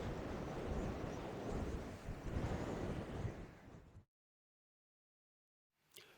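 Strong wind on the coast at Brixham in winter roars and buffets the microphone in a dense, rumbling wash that cuts off abruptly into silence, then briefly returns.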